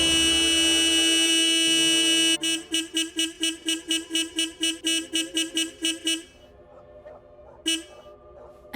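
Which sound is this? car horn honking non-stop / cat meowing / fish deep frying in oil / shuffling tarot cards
car horn honking non-stop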